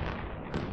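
Fireworks burst in the space game Eve Online as a dense, rumbling wall of booms and crackles, with a brighter, sharper pop near the end of the short burst.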